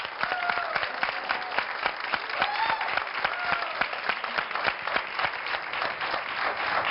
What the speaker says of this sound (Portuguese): para quem pedimos um grande aplauso